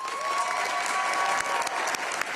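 A graduation audience applauding scholarship students, a dense wash of clapping from a large crowd that holds steady for a couple of seconds.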